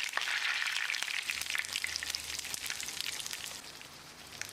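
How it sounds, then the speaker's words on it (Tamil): King fish coated in masala fries in hot oil with a sprig of curry leaves, a steady bright crackling sizzle close by that eases slightly toward the end, with no voices. "ஒரு கொத்து கறிவேப்பிலையும் போட்டு பொரிச்சிக்கலாம்."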